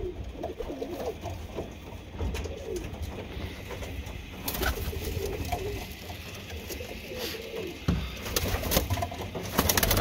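Birmingham Roller pigeons cooing inside a loft, soft repeated coos mixed with shuffling and wing movement nearby, faint talk in the background.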